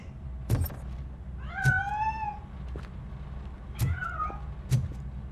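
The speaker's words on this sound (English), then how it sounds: "That cat must be hiding inside." A cat escaping in RoboCop: Rogue City meows twice in drawn-out, rising-falling calls between sharp thuds and knocks. Close and fairly clear over a low hum, with no talk.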